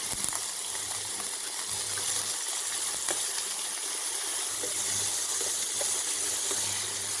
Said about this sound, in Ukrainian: на налила олію і підсмажую печінку на сильному вогні